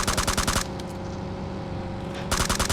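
Rapid automatic gunfire bursts in PUBG Mobile on the Erangel map, loud crackling volleys at the start and again at the end, with a quieter lull between.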